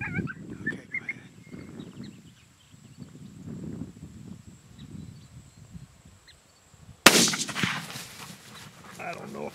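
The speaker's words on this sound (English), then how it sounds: "If he'll get up here just a little bit further, we'll just shoot him." A rifle shot fired at a coyote: one loud, sharp crack near the end of the clip that rings out and decays, following a quieter stretch of outdoor calls and brief low voices.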